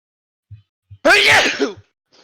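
A single loud, close human sneeze, preceded by a few faint soft sounds, at a tabletop role-playing game session.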